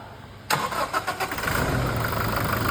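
A Toyota Innova Crysta engine cranks and fires up after a rebuild for worn piston rings, with a sudden loud start and a few uneven crank pulses before settling into a steady, close idle.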